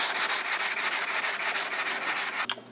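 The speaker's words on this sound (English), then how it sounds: "time to sand it down." Steady rhythmic scraping of sandpaper rubbed back and forth over dried wood filler on a piece of furniture being restored, close and continuous with regular strokes, stopping abruptly near the end.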